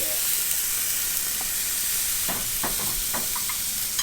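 A beef chuck roast sears on a hot grill, a loud, steady sizzling hiss close up, broken by a few sharper pops and crackles toward the end.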